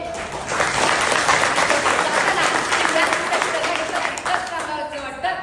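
An audience at a state-level fort-building competition event in Sangli breaks into loud, sustained clapping and applause that swells and then tapers, with a voice heard over it.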